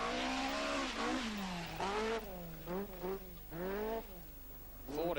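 A Ford Escort rally car with roughly 240–250 brake horsepower, from the 1980 rally season, revs hard through repeated rising and falling engine sweeps as it accelerates and shifts. Brief bursts of tire noise accompany the engine.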